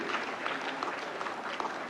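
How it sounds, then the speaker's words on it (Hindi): An audience at the National Film Awards ceremony applauds the award winners with a faint, steady patter of clapping across the hall. "जोरदार तालियां इन अवार्डीज के लिए।"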